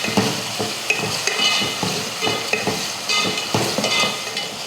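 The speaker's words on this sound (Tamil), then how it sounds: "இதை வதக்கிடலாம்." Potato pieces with skin on, salted and sautéed in a pan for Tamil kara kulambu, giving a steady sizzle with repeated spatula stirring and scraping strokes, close and fairly loud, no talk.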